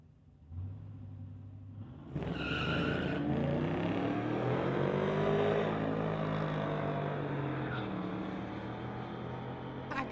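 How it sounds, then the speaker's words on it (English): Tires of a drag race car at a street legal event spin without grip, a loud sustained engine roar and tire squeal that swells and then eases off, with no talk. "That guy just spinning and spinning. Hope he can get some traction"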